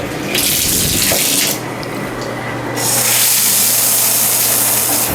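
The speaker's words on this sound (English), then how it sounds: "Nice water pressure. It leaks a little bit" A hotel bathtub faucet with strong water pressure gushes steadily, loud and close, the rushing stream briefly softening before surging again.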